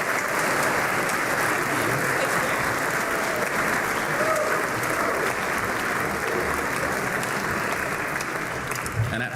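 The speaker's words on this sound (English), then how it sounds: "Please give her a round of applause." Sustained applause from a large audience at a school winter concert, dense and even clapping that holds steady the whole time before a brief break at the end.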